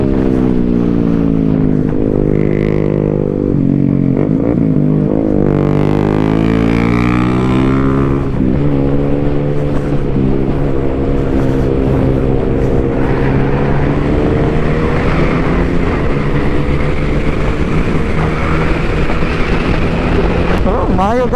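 A Yamaha Xmax V3 scooter engine accelerating during its break-in period, loud and close, its drone climbing in pitch, then holding a steady whine with wind rushing past.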